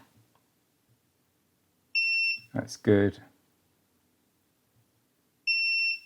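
Two short, steady electronic beeps from a multimeter continuity test on a PlayStation 4 Slim HDMI circuit sound about three seconds apart, with a brief spoken remark between them.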